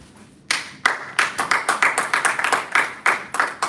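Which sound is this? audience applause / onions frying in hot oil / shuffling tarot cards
audience applause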